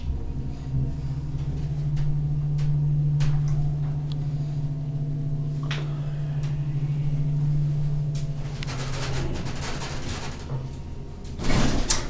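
An old Westinghouse hydraulic elevator hums steadily as it travels, a low constant drone with faint mechanical knocks and a door rumbling open near the end.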